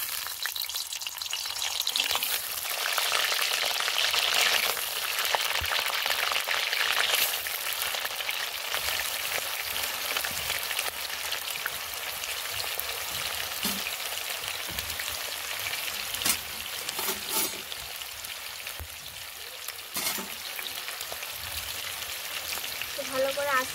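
Washed paneer fries in hot oil in a kadai, giving a continuous bright sizzle with occasional sharper crackles and clinks as the pieces are stirred. No one speaks.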